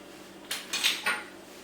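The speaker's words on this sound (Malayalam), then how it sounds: "നന്നായി മിക്സ് ചെയ്യുക." Chocolate sauce flavoured with vanilla essence is stirred briskly in a bowl, a quick run of three or four close scraping, clinking strokes of the utensil against the bowl.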